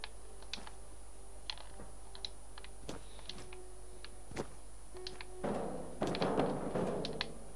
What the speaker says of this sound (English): And obviously I'm clicking the wrong buttons.